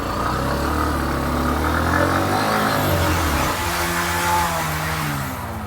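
A Hero Xtreme 125R and a Splendor Plus motorcycle rev hard side by side in a tug of war, their engines giving a loud, continuous, rising and falling drone that fades slightly at the end.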